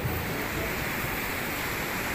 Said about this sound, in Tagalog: makikita po natin na ang lakas-lakas po ng alon ngayon